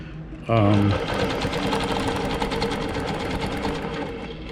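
A longarm quilting machine stitching with a hopping foot makes a fast, even mechanical whir that starts abruptly and runs steadily, with a voice talking over it.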